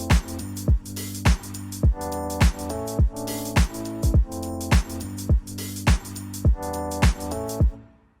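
A loose, swung drum groove: punchy distorted kicks, crisp hi-hats, and repeated stabbing synth chords keep a steady rhythm, loud and close with no voices, before stopping abruptly at the end.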